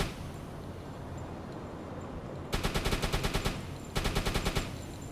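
A 20 mm gun in a naval video game fires at a ship in two rapid bursts of evenly spaced shots over steady engine and water rumble.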